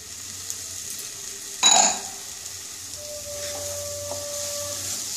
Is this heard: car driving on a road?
no